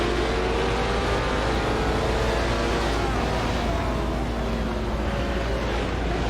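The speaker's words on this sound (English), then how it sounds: "Porsche making a nice pass on number 2" A 1960s Porsche prototype race car passes at Watkins Glen, its engine a loud, steady, high-pitched roar close by, with other racing engines blended into a continuous drone and no talk.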